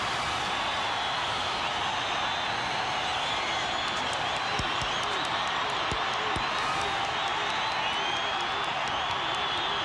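A stadium crowd of 64,000 at a college football game between Washington State and BYU roars continuously, a dense, loud wash of cheering with a few sharp claps and thuds breaking through.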